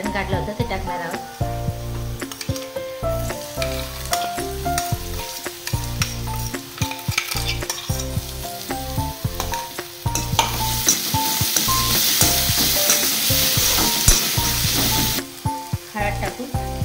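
Ground masala paste sizzles loudly in hot oil in a kadai with cumin, curry leaves and onion, steady frying crackle under repeated stirring scrapes, over backing music.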